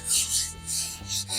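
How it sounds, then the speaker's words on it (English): Light hand sanding with 320 grit sandpaper over a first finish coat on a wooden surfboard coffee table: a few soft back-and-forth rasping strokes, close and rhythmic, with no talking. "I'll just do very light sanding."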